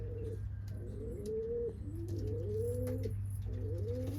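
Homing pigeons coo softly and repeatedly in a quiet, rhythmic series of low rolling calls, close by, with faint background hum.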